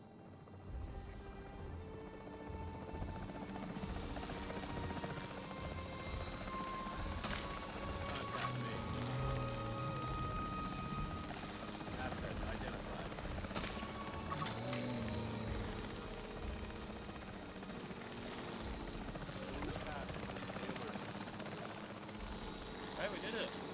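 Capture team helicopter in a dinosaur park video game, a steady rotor thrum and whine running throughout alongside game effects and a speaking voice.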